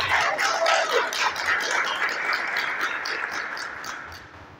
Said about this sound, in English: I think you can applaud yourself better than that.